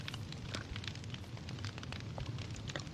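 A campfire crackles in Minecraft, a steady dense hiss with scattered quick pops, close and even in level with no talking.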